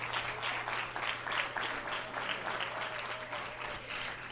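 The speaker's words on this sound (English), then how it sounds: "Everybody give her a round of applause." Audience at a public safety community conversation and dinner clapping to welcome a speaker, sustained mixed clapping at moderate distance, fairly quiet overall, with a faint voice or tone drifting beneath the applause.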